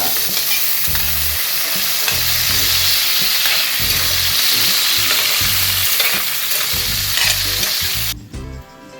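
Green chillies and onions frying in hot oil for mirchi ka salan: a loud, close, unbroken sizzle layered with scraping stirring strokes, cutting off abruptly near the end.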